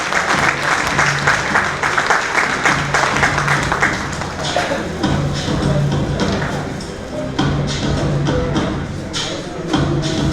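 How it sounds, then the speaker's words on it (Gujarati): An audience applauding at an honouring ceremony, a loud, dense and sustained wash of many hands clapping together with faint crowd murmur. "તાળીઓથી મિત્રો આપણા જુસ્સાને વધાવીએ."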